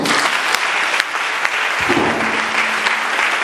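A church congregation at a French-language worship service breaks into sustained, dense applause, close and loud, with a faint voice briefly audible beneath the clapping.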